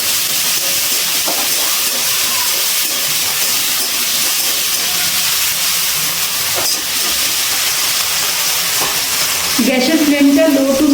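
Small pieces of potato coated in salt and turmeric fry in hot oil, giving a steady, loud sizzling hiss throughout, with a brief voice entering near the end.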